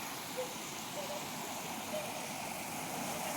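A stream flowing steadily, an even rushing wash of water that stays constant, fairly close and moderately loud.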